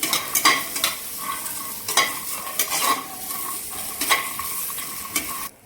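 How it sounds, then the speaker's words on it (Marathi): Grated coconut roasting in a pan for mint chutney, a soft steady sizzle punctuated by repeated sharp scrapes and clinks of a spoon stirring against the metal, close and clear with no voices. "खोबरं सुद्धा आपण व्यवस्थित भाजून घेऊ।"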